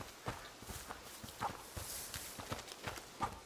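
Horse hooves clip-clopping near stables in an abandoned medieval village in the video game A Plague Tale: Innocence, a faint irregular series of hoof steps over low ambient background.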